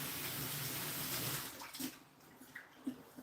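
Hot water runs from a tap into a pan, washing out its base, a steady loud gush that eases off after about a second and a half into quieter splashes and trickles.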